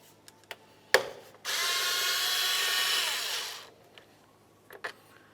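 A power tool, probably an impact driver or drill, spins out a 10mm bolt holding a radiator fan on a Toyota Camry in one sustained whir of about two seconds, with light clicks and clanks of parts before and after.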